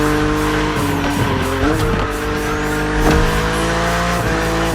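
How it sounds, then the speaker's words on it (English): A BMW Z4 E89 coupe cabriolet in the racing game The Crew Motorfest drives with a loud, steady engine drone and shifting revs, with tire squeal and skidding running continuously close up. "Your car is the Z4 E89, a very cool model"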